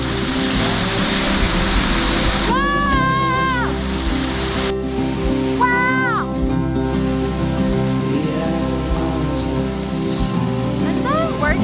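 Constant splashing roar of a small waterfall in Little Cottonwood Canyon, steady and close, with people exclaiming and talking over it.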